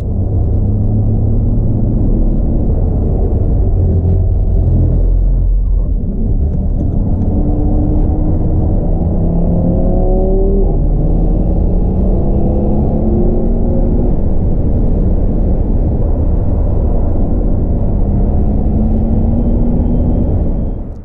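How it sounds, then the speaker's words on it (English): A Jaguar I-Pace electric car driving around the Nürburgring gives a steady, loud road rumble, with rising and falling motor whines sweeping through it from start to finish. "first time round a racetrack in a high-performance EV"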